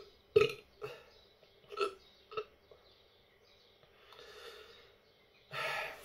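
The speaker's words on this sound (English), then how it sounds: "A burp sign of a good beer." Several short burps after drinking an imperial porter beer, quiet and close, spaced out over a few seconds with breathy exhales between them.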